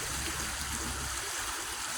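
Steady broadband rush of Coldwater Creek, a polluted Midwest stream once used for chemical dumping, flowing close by and continuously with no voices over it.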